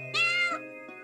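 One clear, close meow from a cat in the video game UmbraClaw rises over a steady ambient music bed, with no voices present.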